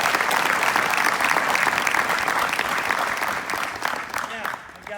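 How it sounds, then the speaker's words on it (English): Sustained audience applause at a National Signing Day event, loud and dense as a crowd claps steadily, tapering slightly toward the end. "So let's give him a round of applause"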